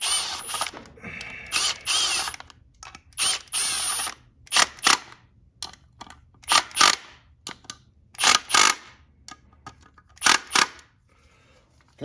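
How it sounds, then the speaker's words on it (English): A ratchet torques bolts on a Honda XR650R stator, producing repeated sharp bursts of metallic clicking in short strokes with gaps between, close and loud, without talk. "You torque them to good and tight."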